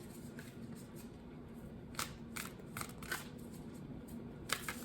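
Tarot cards are shuffled and drawn by hand, a series of quick papery riffles and flicks arriving in short bursts close to the microphone over a quiet room background.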